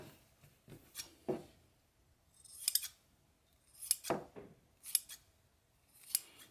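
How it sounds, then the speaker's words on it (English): Scissors snip through sheepskin earmuff pattern pieces, trimming the B parts to shape, with several separate crisp cuts spread out unevenly and close up, plus faint handling rustles between them. "So both B parts will need to be trimmed to give it some shape."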